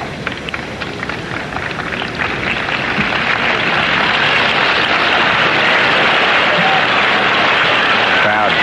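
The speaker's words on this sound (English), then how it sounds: "Crowd clapping and encouraging Yvonne Lendl." Tennis crowd at the 1984 US Open final clapping and cheering for Ivan Lendl, a dense, loud, steady wash of applause from a large stadium audience that builds slightly over time.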